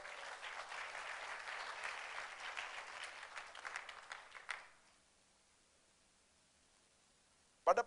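Church congregation applauding together during a worship service, a steady dense wash of clapping for about four and a half seconds that fades to quiet, followed by a brief sharp noise at the very end.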